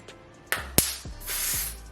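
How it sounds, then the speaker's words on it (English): Wig Dealer spray misted onto the edges of a wig, with a couple of short clicks and pops followed by a longer, soft hissing spray burst close by. No one speaks. "to finalize the edges, I'm gonna use the Wig Dealer spray"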